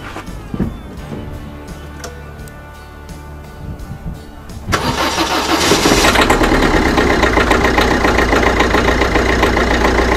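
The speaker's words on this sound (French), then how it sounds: "Quand vous allez entendre le V8 triple compresseur, regardez-moi cette mélodie." A car engine cranks and catches, then a triple-supercharged V8 roars into a loud, deep idle with a whining edge, close and sustained.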